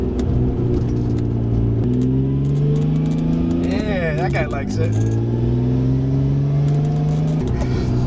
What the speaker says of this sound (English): These pops are so nice.